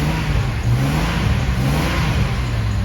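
Jeep XJ with a 4.0L inline-six engine running steadily at close range, a smooth, even mechanical hum with a low pulsing drone and slight rises in pitch, no voices over it.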